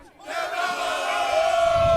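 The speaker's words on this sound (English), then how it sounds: "Sounds like a Devils crowd here," A crowd of hockey fans in an arena before a Devils versus Flyers game swells into a loud, sustained collective roar and cheer that rises after a brief quiet start and holds steady.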